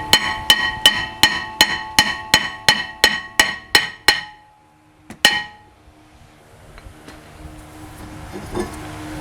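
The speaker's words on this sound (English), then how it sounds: "now we got to beat this one with a hammer because this rotor is on there pretty good" Roughly a dozen sharp, evenly paced hammer blows ring loudly against an old, stuck front brake rotor on a 2014 Toyota Highlander, then a brief pause, one last clanging strike and faint shop clatter.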